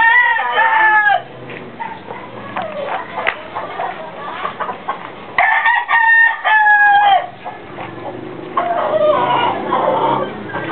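Backyard chickens clucking with a rooster crowing loudly and close, repeated calls rising over steady farmyard clucking, with a few spoken words mixed in.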